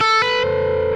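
A distorted electric guitar plays a quick three-note hammer-on run, with the pinky adding the third note. The notes step up in rapid succession and the last one rings on, close and loud, with no voice.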